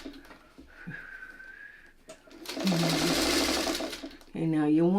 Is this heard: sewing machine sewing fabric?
yes